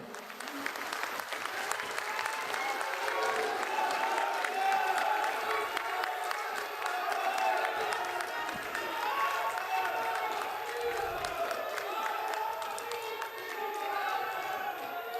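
A large crowd at an outdoor political rally in a historic vegetable market in Mahendergarh stands and applauds to welcome the chief minister, sustained dense clapping with some cheering and crowd murmur throughout.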